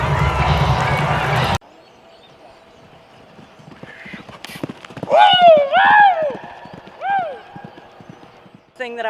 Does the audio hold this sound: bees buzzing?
no